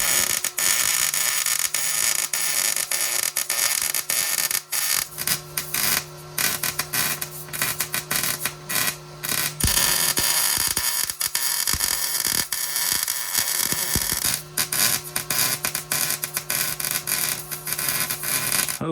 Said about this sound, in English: Okay, so now to weld.